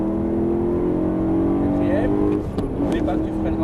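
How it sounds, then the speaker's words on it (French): A BMW M3 on a racing circuit accelerates with a steady, droning engine note that climbs slightly in pitch, heard from inside the car beneath an instructor's voice. "tu reprends tranquillement l'accélérateur et tu accélères"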